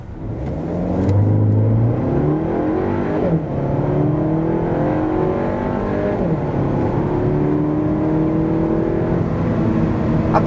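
A 2024 Cupra Ateca with the 2.0 TSI 190 hp engine accelerates hard to 100 km/h, its loud engine note climbing repeatedly with two audible gear changes and no talking.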